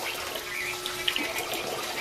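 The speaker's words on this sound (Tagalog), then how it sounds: "Lagyan natin tubig yan, guys." A steady stream of water splashes and pours continuously into a cooking pan, a soft, even rushing sound with no voices.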